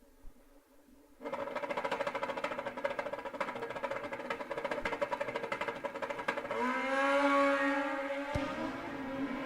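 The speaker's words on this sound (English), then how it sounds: "Here we go, taking off for the first time" A Kawasaki KZ and a Suzuki Hayabusa drag racing motorcycles launching off the line, a loud buzzing engine roar that kicks in suddenly, rises in pitch as they accelerate away, then fades.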